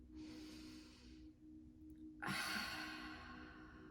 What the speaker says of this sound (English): can you take a deep breath here with me?